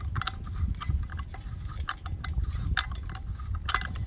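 Someone hand-threads the lug piece of a BMW RimGard wheel lock, producing a steady run of close, small metallic clicks and ticks throughout over a low rumbling background, with no talking.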